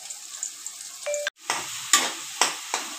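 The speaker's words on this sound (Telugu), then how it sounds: "ఇప్పుడు దీనిలో మనము ఉల్లిపాయలు, ఆనియన్స్ వేసుకొని ఫస్ట్ లైట్గా ఫ్రై అవ్వాలి." Onions frying lightly in a pan, a steady sizzle broken by several sharp stirring scrapes and clatters, close and alone without talk.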